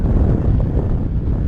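Steady, heavy wind buffeting a microphone, a dense low rumble that stays loud and continuous throughout with no voices.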